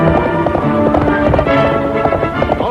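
Horse hooves clip-clop in a quick, steady rhythm, loud and close, with a busy rumble of movement beneath them.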